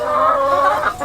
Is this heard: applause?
no